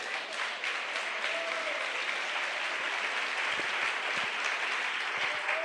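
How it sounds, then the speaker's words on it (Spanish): Congregation applause during a Spanish-language church sermon, a steady wash of clapping from a sizeable gathering that carries evenly for several seconds. "Aplauso, amén."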